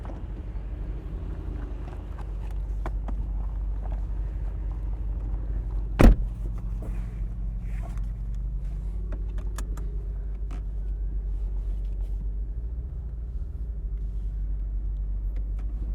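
A 2023 Mercedes-AMG SL 63 cruises with its top down, its engine and road noise forming a steady low rumble. One sharp click stands out partway through, and no one speaks.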